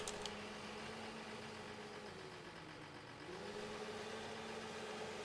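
A tractor engine in Farming Simulator 15 idles with a steady low drone after starting, briefly dipping in pitch midway before settling back to an even idle, without any talking.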